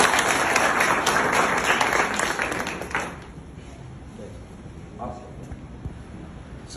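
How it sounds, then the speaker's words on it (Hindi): Loud applause from a live village gathering honoring Sant Kabir Das, dense clapping for about three seconds before fading to a quieter murmur of crowd noise. "जोरदार तालियां एक बार।"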